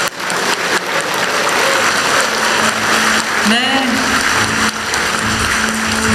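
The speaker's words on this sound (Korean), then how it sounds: "다시 한번 박수 부탁드립니다" Audience applause at a Korean presidential event, a steady dense clapping wash throughout, with a voice briefly heard over it.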